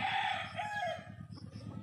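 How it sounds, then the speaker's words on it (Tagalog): A rooster crows nearby, a drawn-out call over soft background clucking of chickens, fairly close and clear. "Ayan yung mga manok"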